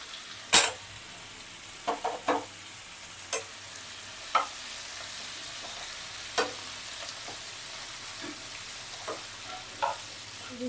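Ridge gourd and prawns are stirred and fried in a pan, with a soft, steady sizzle under sharp, scattered clinks and scrapes of the spatula at irregular intervals, close by.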